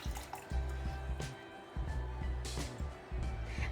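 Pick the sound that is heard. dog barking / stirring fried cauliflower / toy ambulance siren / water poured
water poured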